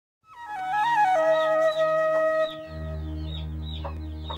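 A rooster's loud, drawn-out crow, followed by lower clucking from chickens on a small farm, close and clear with no talking.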